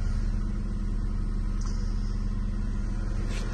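A 1990 Ford Sierra Ghia idles steadily at close range, a smooth, even engine hum with a low rhythmic throb and no revving, heard with no talk over it.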